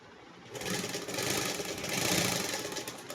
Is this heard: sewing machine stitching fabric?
yes